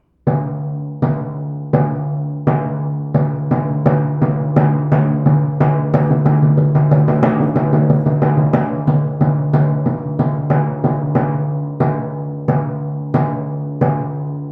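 A timpani is pounded harshly in a steady rhythm with hard, aggressive hits, each attack sharp and ringing, loud and close.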